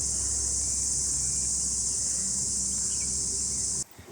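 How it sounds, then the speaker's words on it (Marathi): Crickets chirping in the forest of the Sahyadri ghat along the Kumbharli Ghat climb, a dense, continuous high-pitched trill, loud and steady, that cuts off abruptly near the end. "रातकिड्यांचा आवाज येतो आहे."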